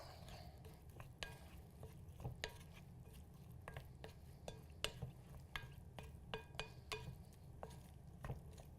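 Mango salsa seasoned with salt, pepper and garlic is stirred in a bowl, giving sparse, distinct utensil clicks and taps at uneven intervals over a low, steady background hum, quiet and close.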